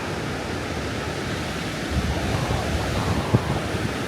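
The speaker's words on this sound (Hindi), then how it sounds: "ये बद्रीनाथ का पानी है," Flowing river water of the Alaknanda at Badrinath in the Himalayas, a constant broadband rush heard up close, steady and loud with no voices.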